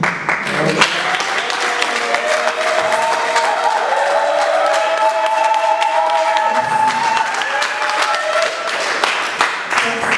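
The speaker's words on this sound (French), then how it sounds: "Ça me touche profondément vos applaudissements" An audience applauds steadily for several seconds, a dense wash of clapping with some cheering mixed in, sustained without pause.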